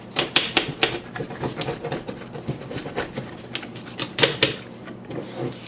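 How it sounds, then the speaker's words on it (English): Vegan mozzarella shred pizza being cut, giving a run of close, crisp clicking and crunching taps in quick irregular bursts, with no talking. "let's take this pizza and cut it"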